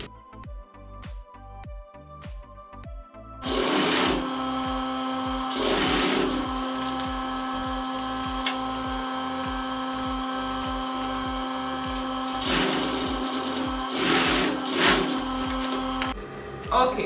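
Home sewing machine stitching the pocket seam of DIY jogger pants, a steady mechanical whir running in several long bursts over a rhythmic tapping background, fairly close and loud.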